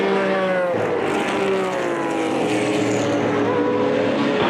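A 1969 Porsche 917K race car runs down toward the Andretti hairpin on track, its engine note loud and sustained with pitch sweeps as it shifts and slows, heard at moderate distance with no voices.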